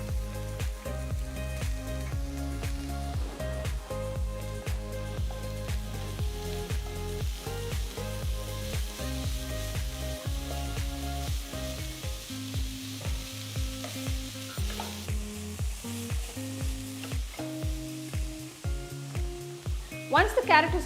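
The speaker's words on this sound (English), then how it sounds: "Next I'm going to add 3 large carrots that's been grated." Grated carrots frying in a pan with fresh turmeric, giving a steady close sizzle with stirring, heard under background music throughout.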